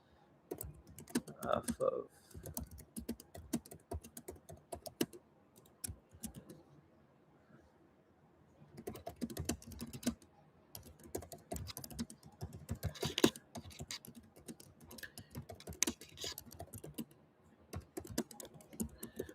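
Someone types a note on a computer keyboard in rapid clattering bursts with short pauses between them, close and moderately loud, with a faint voice underneath at times.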